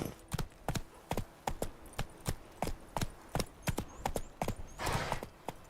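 Hooves of a horse in the Witcher 3 video game clip-clop in a steady galloping rhythm, close and clear, with no talk over them.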